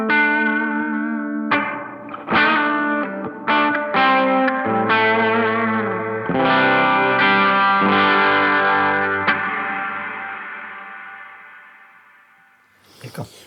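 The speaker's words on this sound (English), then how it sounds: "let's have a quick listen to the whole reverb with the liveliness all the way off" Electric guitar played through a DigiTech Supernatural ambient reverb pedal with liveliness turned fully down, a run of plucked notes and chords ringing into a smooth, lingering wash that slowly decays, with no talking.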